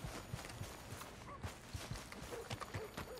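Horse hooves clip-clopping in Red Dead Redemption 2, a quiet steady walking rhythm of soft hoof falls repeating evenly throughout, alone without talk.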